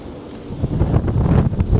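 Strong wind gusting by the sea in Hokkaido, buffeting the microphone with a steady, loud roar and rumble, no voices.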